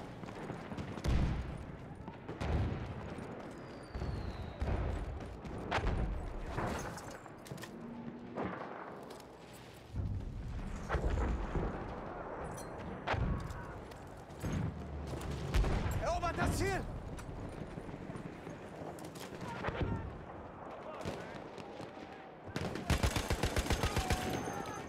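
Gunfire from a first-person shooter video game, including light machine gun bursts, comes in repeated loud shots and rapid volleys through the whole stretch, with a fast burst near the end, mixed with game voice announcements and a player talking.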